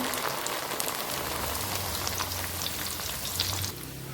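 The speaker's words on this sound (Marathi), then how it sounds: "अशाच पद्धतीने आपल्याला मक्याचे पोहे पण तळून घ्यायचे आहेत" Corn poha flakes fry in hot oil with a steady, dense sizzling crackle that fills the whole stretch, easing slightly at the very end, with no voices.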